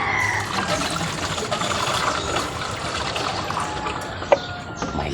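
Tuba palm wine trickles and splashes steadily as it is poured and transferred between containers, a continuous liquid wash with a brief sharp clink near the end and faint rooster calls in the background.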